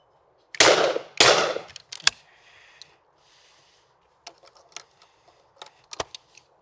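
Shotgun blasts from a Spanish-made gun at clay targets, two loud sharp reports in quick succession followed by a smaller crack, then scattered faint clicks and light knocks in an otherwise quiet outdoor setting.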